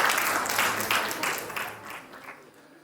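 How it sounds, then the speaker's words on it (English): A room of participants at a public speaking workshop breaks into dense applause that stays full for a couple of seconds, then gradually thins and fades away. "give them all a round of applause"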